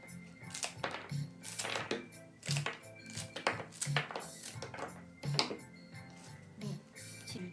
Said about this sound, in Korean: 그 다음은 줄기를 잘라줄게요